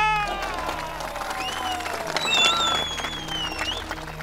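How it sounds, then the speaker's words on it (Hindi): A crowd applauds at a political speech in a Hindi drama serial, the clapping mixed with high whistle-like tones and scattered shouts that rise briefly midway before settling back. "तालियां।"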